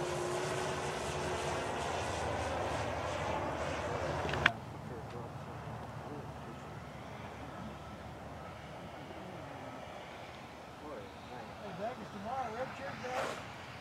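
Grumman F8F Bearcat warbird aircraft engine at an airshow, a steady loud propeller drone that cuts off abruptly, leaving a fainter distant rumble with voices talking over it.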